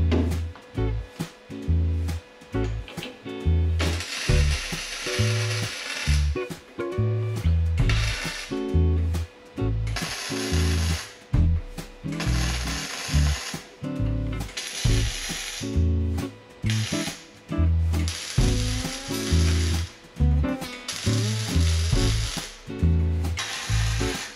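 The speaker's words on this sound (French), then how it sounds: "Là maintenant on va souder." Welding on the metal body of a Peugeot 106 car, heard as repeated crackling, hissing bursts of a few seconds each. The bursts are separated by short pauses and come through close and steady.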